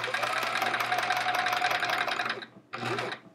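A domestic sewing machine stitches free motion quilting on a scrap-fabric chevron quilt, running in a steady, close, continuous whir, stopping briefly near the end, then starting up again for a short burst.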